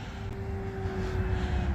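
An RC Sbach model airplane's engine holds a steady buzzing drone as it flies a pass, with the tone swelling slightly and no one talking.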